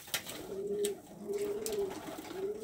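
A horseman pouter pigeon coos close by in three drawn-out, throaty rolling calls, with slight rustling between them.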